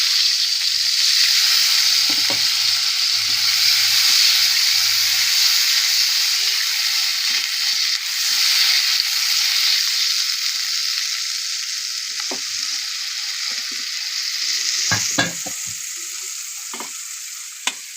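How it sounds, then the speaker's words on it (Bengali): Eggplant fried to a reddish brown sizzles loudly in a pan after a little water is added, a strong steady hiss with occasional stirring clicks and scrapes. "বেগুনটা আমার লাল লাল করে ভাজা হয়ে গেছে। আমি অল্প জল দিয়ে দেবো।"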